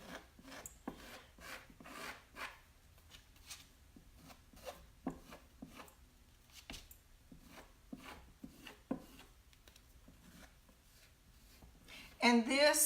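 A plastic putty spreader rasps and scrapes chalk paint texture across a surface, with repeated soft strokes working outward from the center and light handling noises throughout.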